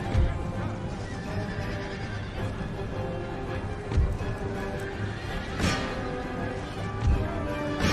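Horses neigh and whinny amid a dense, continuous battle din in the video game Empire: Total War, with clattering crashes and rumbling noise throughout; no clear voices.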